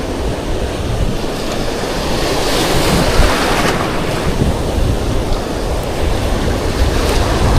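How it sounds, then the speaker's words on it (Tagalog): Strong wind blowing on the seashore after a typhoon, loud constant rushing and buffeting against the microphone mixed with crashing surf, steady and close throughout. "Malakas pa yung hangin mga buddy."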